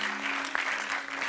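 Church congregation applauding during a Thursday teaching service, a dense, steady wash of clapping that fills the space for a moment, with a sustained low hum beneath it.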